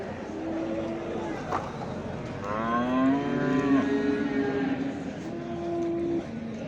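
Cattle mooing at a livestock market in Çorum, Turkey, several long drawn-out lowing calls from nearby animals one after another, over a steady crowd murmur with people talking.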